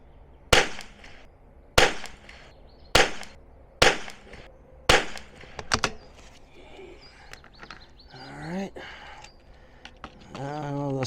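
Five sharp, close rifle shots using CCI standard velocity .22 ammunition, spaced about a second apart, with a voice speaking quietly afterward.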